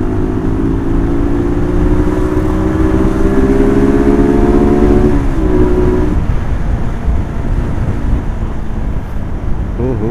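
A motorcycle engine rises steadily in pitch as it accelerates through dense traffic, then eases off, heard up close under heavy wind rumble.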